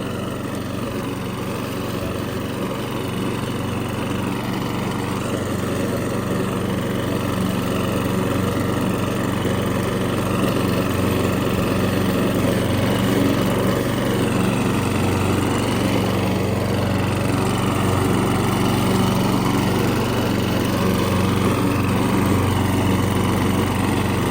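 A vintage Honda HRS-21 lawn mower engine runs steadily at close range, a continuous even drone with no pauses and no voices.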